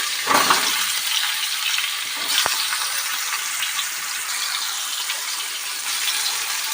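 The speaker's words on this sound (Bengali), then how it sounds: "বেগুনটা ঢাকা না দিয়ে ভালো করে লাল লাল করে ভেজে নিতে হবে।" Eggplant pieces fry uncovered in hot oil, giving a loud, continuous broadband sizzle with a bright burst near the start and a sharp clink partway through.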